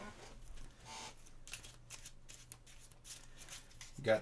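A deck of Marvel Champions cards being riffle-shuffled and handled on a table, several quick papery bursts of moderate loudness, ending in a louder flick.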